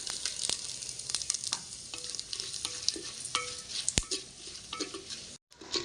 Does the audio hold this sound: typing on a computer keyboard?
no